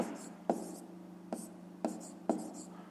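A pen writes numbers by hand on paper, making soft scratching strokes in short bursts with light taps between them, close and quiet, with no talk.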